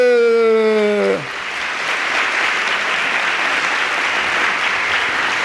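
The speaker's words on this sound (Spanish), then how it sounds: "Un aplauso para Jesús." A congregation applauds during a Catholic talk on the Lectio Divina. A short held, tonal note ends abruptly after about a second, and full, steady clapping follows and carries on loudly to the end.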